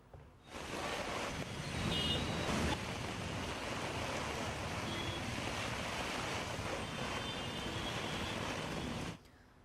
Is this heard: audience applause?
no